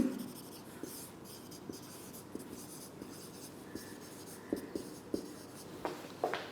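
Chalk or marker writing on a classroom board during a chemistry lecture, a steady scratchy stroking with small taps and squeaks, close and moderately quiet over a faint room hum.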